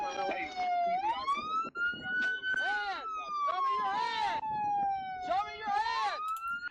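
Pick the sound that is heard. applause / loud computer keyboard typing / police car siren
police car siren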